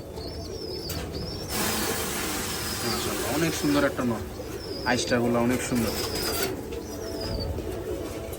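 Pigeons at a breeding farm coo in low, repeated murmurs while someone talks over them close by, with a few brief chirps mixed in.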